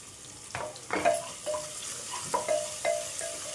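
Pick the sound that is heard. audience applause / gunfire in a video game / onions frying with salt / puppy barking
onions frying with salt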